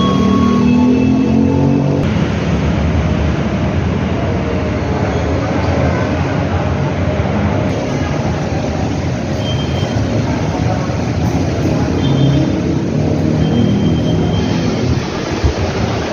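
Commuter rail at Buaran station in Jakarta, a loud steady rumble of a passing train with rolling wheel noise and shifting tones throughout, no clear talking.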